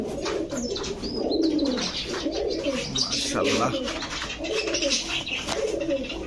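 Pigeons coo repeatedly in soft low rolling calls close by at a pigeon shop, with someone briefly speaking over the steady background.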